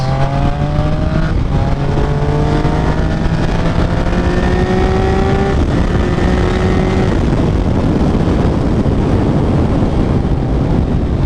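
A motorcycle rides at speed during an overtake. A loud, continuous engine note climbs steadily in pitch beneath heavy wind roar.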